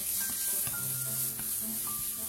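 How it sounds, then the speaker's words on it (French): Chicken wings and leeks stir-frying in a hot wok give off a steady sizzle, with a few brief scraping stirs over the continuous hiss. "Mettre les ailes et les poireaux. Remuer pendant environ 1 minute."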